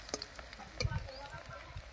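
Banana flower fritters frying in hot oil while being pressed down, a soft close sizzle with a few small clinks and thumps, brief and fairly quiet.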